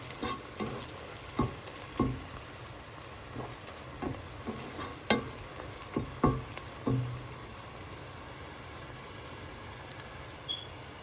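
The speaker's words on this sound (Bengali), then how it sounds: "প্রায় 2 টেবিল চামচ ঘি আছে, আমি দিয়ে দিলাম। দিয়ে দিব 1 কাপের মতো পেঁয়াজ কুচি" Chopped onions frying in about two tablespoons of ghee for chicken biryani, a steady sizzle broken by irregular scraping stirs from a spoon in the pan.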